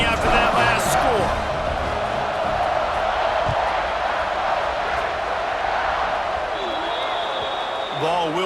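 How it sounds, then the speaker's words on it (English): A stadium crowd in EA Sports College Football 26 keeps up a dense, steady roar for the whole stretch after a score, and a commentator talks over it. "this crowd is buzzing after that last score"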